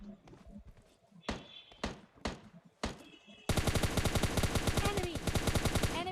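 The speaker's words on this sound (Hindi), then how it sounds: "अब देखो सामने से कोई बंदा बॉट फायर कर रहा है।" Rapid automatic gunfire from a firefight in the mobile shooter PUBG Mobile Lite, a few isolated loud shots first, then a sustained dense burst of repeated fire, with someone talking over it.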